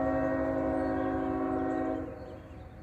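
A freight or passenger train blows a loud, sustained horn chord as it approaches a grade crossing at Red Street in Abbeville, holding steady for about two seconds before cutting off, leaving the rumble of the moving train.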